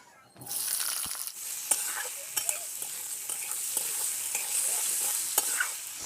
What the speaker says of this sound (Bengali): কড়াই সর্ষের তেল দেব দুটো শুকনো লঙ্কা কালো জিরে কাঁচা টমেটো দিয়ে দেব